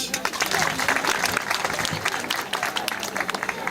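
Theatre audience at a staged beauty-pageant comedy breaking into applause, a busy, continuous patter of many hands with a little crowd murmur beneath.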